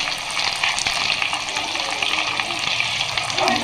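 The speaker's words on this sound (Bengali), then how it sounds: "টমেটোটা দিলাম। টমেটোটা ভেজে নেব।" Tomato with turmeric powder fries in hot oil in a pan for khichuri, producing a steady, close, loud sizzle with occasional stirring scrapes and no talk.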